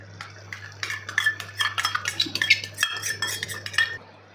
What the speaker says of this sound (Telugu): ఇప్పుడు ఇది చక్కగా కలుపుకుందాము.